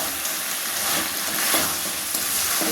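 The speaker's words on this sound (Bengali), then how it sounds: "এটাকে এখন হালকা আঁচে বেশ খানিকক্ষণ কষিয়ে নেব" Jackfruit and prawn masala frying in a pan over low heat while being stirred, giving a steady close sizzle with soft scraping strokes throughout and no voices.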